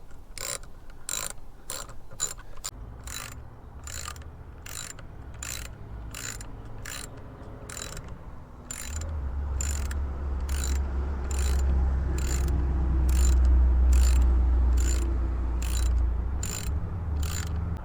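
A wrench ratchets to tighten the bolts on the fuel tank of a Toro Homelite Expand-it garden tool, giving sharp rhythmic clicks in quick runs and then a steadier pace, close and loud, with a low rumble joining partway through.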